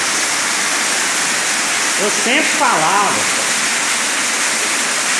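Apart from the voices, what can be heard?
waterfall inside a cave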